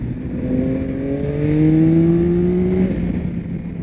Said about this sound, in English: I love that growl sound that comes out of the front of this bike.